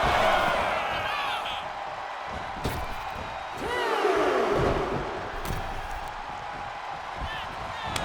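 A broad video game wrestling crowd roar, from WWE 2K25, rises and swells behind a steady wash of arena noise, with occasional thumps and a whooping voice, sounding distant and electronic.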